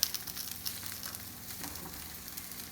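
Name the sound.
Brussels sprouts frying in a pan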